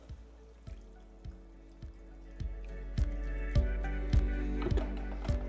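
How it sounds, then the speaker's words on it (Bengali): A small splash of water poured into a pan of cooking tomatoes for a potato snack, a run of distinct drips and soft splashes landing at a steady pace, growing slightly fuller and louder as the pour goes on, with no talk. "এবার আমি এখানে দিয়ে দেবো অল্প একটু জল, যাতে টমেটোটা পারফেক্টলি কুক হয়ে যায়"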